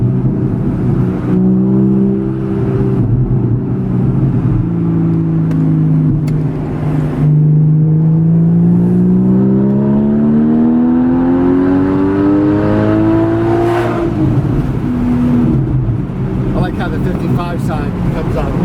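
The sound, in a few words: Porsche Boxster S engine accelerating during driving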